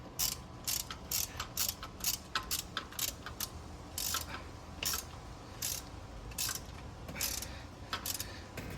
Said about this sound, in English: Sometimes you gotta use a torque wrench as a ratchet.